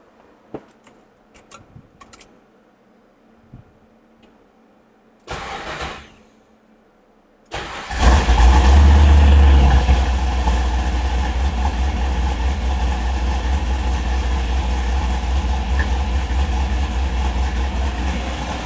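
A square-body truck engine fitted with an LSA supercharger, quiet at first with a few clicks and a brief crank, then firing up loudly and settling into a steady, heavy, rumbling idle up close.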